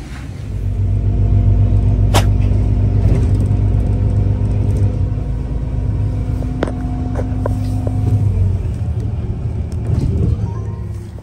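A bus ride on the way to a trucking company in Europe, with a loud, continuous low engine and road rumble, a few sharp knocks and clatters, and the drone easing near the end.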